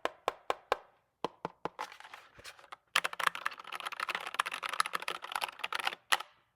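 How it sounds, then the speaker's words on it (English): Keys clack on a compact mechanical keyboard costing under $100, first in a few separate crisp strokes, then in a fast, dense run of close, clear typing. "I love how the keyboard sounds."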